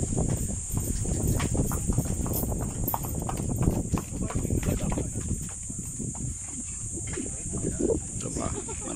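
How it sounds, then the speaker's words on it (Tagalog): Horses parading along a mountain trail near Mt. Batulao, their hooves clip-clopping in a dense, steady patter against constant insect chirring, with people chatting nearby. "May parada ng mga kabayo."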